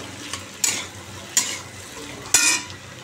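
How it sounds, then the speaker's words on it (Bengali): Potato curry cooks in a pan on a home stove, with three sharp stirring scrapes against the pan over a steady low sizzle; nobody speaks. "এই আলুর তরকারিটা বসিয়ে দিয়েছি"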